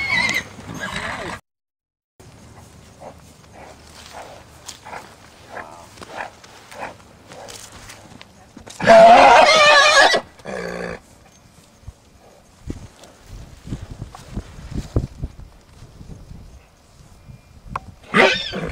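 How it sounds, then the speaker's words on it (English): A herd of horses establishing rank neighs and whinnies loudly in several bursts. Hoof clip-clops and scuffling run between the calls, and a person talks over parts of it. "Loud as it may be, all these horses are doing is establishing their order of rank within the herd."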